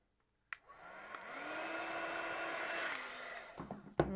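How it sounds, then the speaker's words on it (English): Heat tool blowing hot air over a Christmas poinsettia card, switching on with a click into a steady, close, loud rushing whoosh for about three seconds before cutting off, followed by faint handling clicks, with no talking. "And then you can go in with your heat tool"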